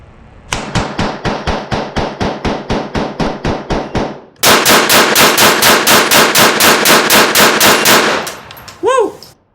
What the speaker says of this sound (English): Now, rapid fire with TX.